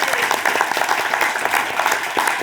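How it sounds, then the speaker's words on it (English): Dense, steady applause from a live studio audience at a Notts TV tenth-anniversary celebration greets a guest, loud and sustained throughout with cheering mixed into the clapping. "Round of applause for Mark."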